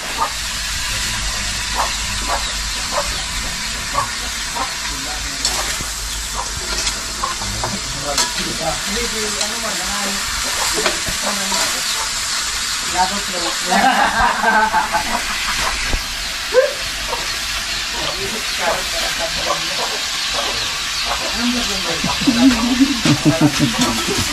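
Food is stirred in a sizzling pan. Steady frying hiss runs under repeated scraping and clinking strokes of the utensil against the pan. A few louder clatters come near the middle and the end.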